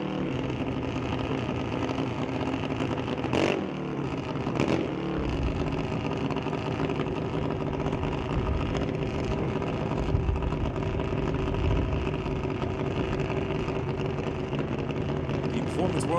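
Half-scale dragster engines fire up and idle at a drag race, a loud rumbling, revving drone with sharp bursts early on, while an announcer talks over the engines.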